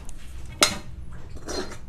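Cooked food for bread gulab jamun is scraped and tipped from a pan into a wide cooking vessel, giving one sharp metallic clank followed by softer scraping and clinking of utensils, close and with no talk.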